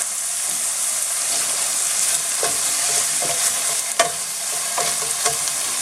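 Chili sizzles and fries in hot oil in a pan for a Bengali-style doogi dish, a steady bright hiss close by, with a few sharp utensil taps and stirring scrapes near the end.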